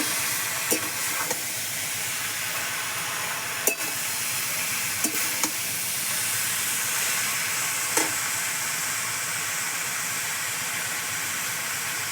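Cabbage and potatoes stir-frying in a pan without added water, a steady broad sizzle throughout, with occasional sharp clicks of a utensil scraping the pan.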